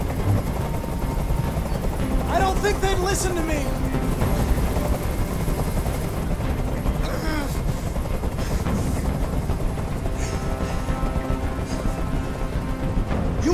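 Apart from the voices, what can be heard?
helicopter hovering, from a video game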